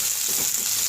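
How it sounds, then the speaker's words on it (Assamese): Onions fry in oil in a wok while mushrooms are being cooked, giving a steady, close hiss of sizzling with no voices over it. "পিয়াজখিনি এনেকৈ ভাজিব খিনি"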